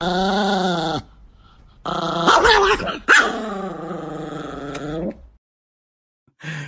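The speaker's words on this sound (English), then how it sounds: "The angry dog Xi Jinping, and of course this one." An angry dog growls and barks in loud, harsh bursts, with strained snarling from about two to five seconds and a sharp yelp at the very end. There is no talking.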